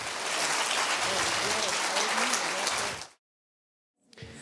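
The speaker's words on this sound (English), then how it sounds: "Let's give them a round of applause" An audience applauds the departing judges at a Shark Tank-style entrepreneur competition, a thick burst of clapping that cuts off abruptly, followed by a second of silence before a faint murmur returns.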